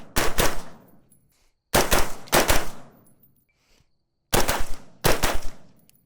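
Loud, close rifle gunfire from a rifle fitted with a Steiner T6Xi low-power variable scope, arriving as three pairs of sharp shots with quiet gaps between pairs.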